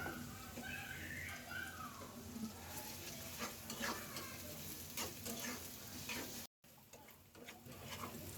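Onion and garlic fry in oil with black cumin, sizzling steadily while a spoon stirs and scrapes in the pan, with a voice speaking faintly and a brief dropout near the end.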